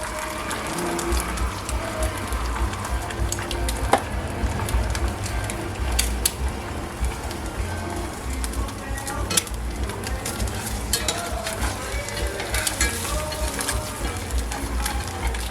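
Eggs frying in oil in a pan on a stovetop give off a steady, close sizzle, broken by a few light clinks of a utensil against the pan.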